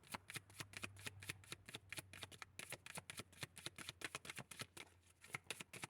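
Tarot cards shuffled by hand in a steady run of crisp, rapid riffling flicks, close and fairly loud, with a low hum underneath and no talking.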